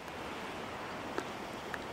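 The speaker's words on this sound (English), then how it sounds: "very windy" Steady broadband wind rushing across open moorland in Staffordshire and Derbyshire, a constant roar with a couple of brief gust-like flickers.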